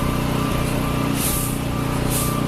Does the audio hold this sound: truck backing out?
yes